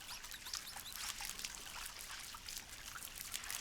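Shower water running steadily, a soft continuous spray and trickle, with rainwater as the only source for the shower.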